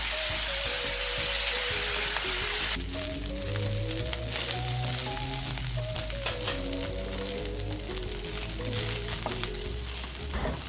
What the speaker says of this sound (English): I'm adding the soy sauce now and frying this rice for 3 minutes